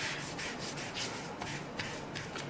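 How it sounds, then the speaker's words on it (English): A clean cloth rubs over freshly embossed pieces in soft, repeated strokes, a faint close scrubbing rhythm with no other sound around it. "you can use a clean cloth and just rub these off"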